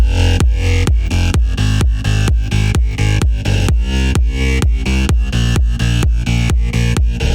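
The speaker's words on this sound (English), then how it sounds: "All together the bassline sounds like this." A driving progressive house electronic bassline pumps in steady eighth-note pulses, heavy and loud, ducking rhythmically between hits with no vocals.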